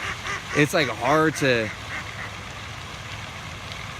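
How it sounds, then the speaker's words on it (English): Ducks quack in a short run of nasal calls, three or four close together, with someone talking briefly over them and steady outdoor background noise after. "all these ducks around just chilling"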